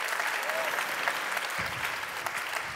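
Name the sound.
audience applause at an awards show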